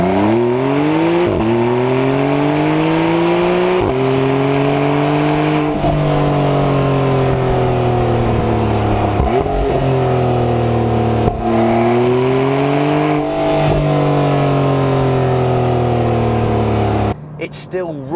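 Turbocharged engine of a 2017 Porsche 911 Carrera 4S revving repeatedly, loud and close, pitch climbing through each gear then dropping at every shift, with a brief rustle at the end.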